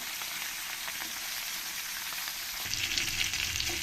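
Pieces of katla fish fry in hot oil, giving a steady, close sizzle that swells louder near the end as the pieces are added or turned.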